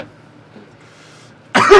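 A single sharp cough breaks a near-silent pause, close and loud at the very end.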